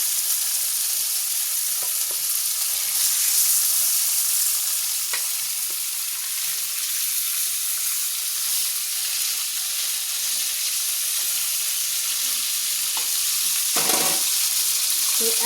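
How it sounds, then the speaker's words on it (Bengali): Chicken pieces frying in oil in a wok, a loud continuous sizzle with occasional stirring scrapes and a sharper burst of spatter near the end, close up and without speech. "তো এইভাবে সব কটা মাংসকে আমি ভেজে নেব।"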